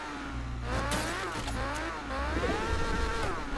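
A car drives in a video game during a trio tournament match, its engine revving up and down in steady waves, moderately loud, with faint game effects and a few sharp clicks mixed in.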